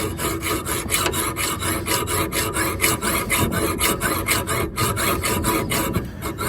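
Rapid, continuous back-and-forth rasping of a blade cutting through a metal bolt on a 1999 Ford F150, loud and close, with a steady grinding rhythm throughout.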